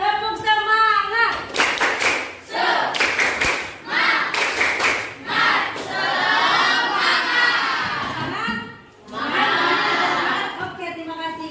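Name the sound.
children doing a rhythmic spirit clap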